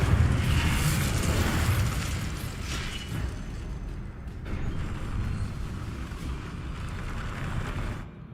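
Incendio fire spell cast in Hogwarts Legacy, a dense roaring burst of flame that rumbles on steadily for several seconds, loud and close, dipping briefly midway before swelling again and then cutting off.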